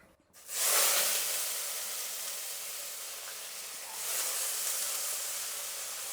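Potatoes tipped into hot oil with popped mustard seeds for tomato dal, bursting into a loud, steady sizzle that swells again partway through, with no talking.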